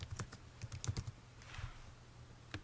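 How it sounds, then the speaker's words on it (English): Search terms are typed on a computer keyboard in quick, irregular bursts of soft clicking keys, close and fairly quiet, with a short pause before a final few taps. "type in anatomy and bone"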